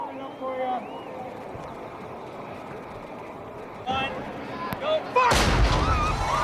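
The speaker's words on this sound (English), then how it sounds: "the Civil War cannon signals the start of the inaugural Ironman Wisconsin" A Civil War cannon blast booms near the end, starting the 2002 Ironman Wisconsin triathlon swim at Lake Monona, after a calm stretch of crowd noise and whistles, with a voice talking faintly in the background.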